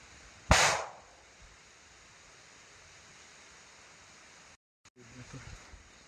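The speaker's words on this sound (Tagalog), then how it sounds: "Malayo yung putok tol. Yung putukan tol ba palapit ng palapit." A single sharp gunshot cracks out from a distance in rainy outdoor surroundings and decays quickly, leaving a steady hiss of rain, with faint rustling near the end.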